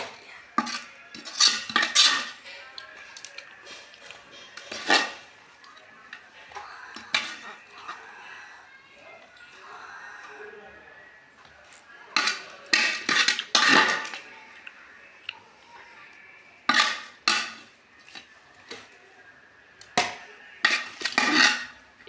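Metal utensils clink and scrape against pots and dishes as cooked chicken is shifted from one vessel into another, with bursts of sharp clatter separated by quieter pauses, close by.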